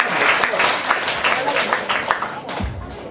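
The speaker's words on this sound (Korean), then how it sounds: "박수 맞아주시기 바랍니다." A Korean church congregation claps to welcome a teacher coming forward to make an announcement. The applause is brisk and fairly close, then tapers off as a voice begins near the end.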